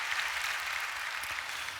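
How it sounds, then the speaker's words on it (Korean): A church congregation at a Friday prayer service claps together, a dense, sustained wash of applause heard from within the hall. "박수 한번 해주시죠."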